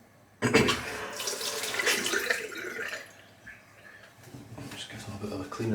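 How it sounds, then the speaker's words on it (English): Tap water runs steadily into a sink as razor blades are rinsed under it, close and fairly loud, then thins out near the end before swelling again, with no voices. "I'm just going to rinse off the blades and the razors."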